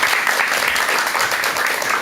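Steady audience applause at a lecture event, a dense wash of clapping from a crowd at moderate level, brief and uninterrupted.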